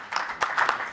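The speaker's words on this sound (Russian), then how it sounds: "Аплодируйте, пожалуйста." Applause from a seated audience at a Kaliningrad tourism presentation: a short burst of scattered, moderately loud hand claps in an irregular rhythm, with no talking over it.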